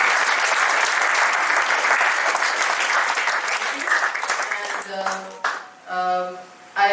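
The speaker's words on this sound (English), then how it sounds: "Please give a big applause to the guest." An audience at a college entrepreneurship session applauds the guest speaker, sustained steady clapping that thins out toward the end as music tones begin.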